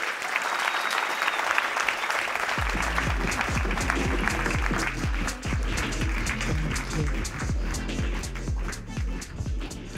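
An audience applauds after a panel discussion at a textile industry conference: a dense wash of clapping that settles into a rhythmic, steady beat, sustained and fairly loud throughout.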